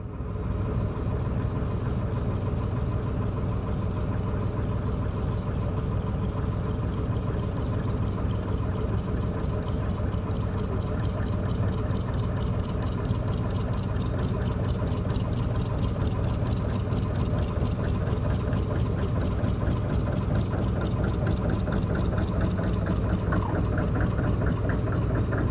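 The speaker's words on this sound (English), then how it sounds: "We're just coming up to a moored boat with a really lovely sounding engine" A moored narrowboat's heavy engine idles with a steady low, rhythmic chug, constant and fairly close throughout, on a canal, with no voices.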